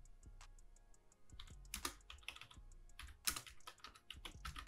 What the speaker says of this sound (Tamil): குட் மார்னிங் அப்படின்னு டைப் பண்ணுறேன்.